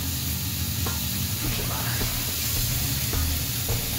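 Nopal cactus paddles sizzle on a hot griddle beside poblano chile strips and onion for Mexican alambres, a steady close hiss with a few light scrapes, and no talking.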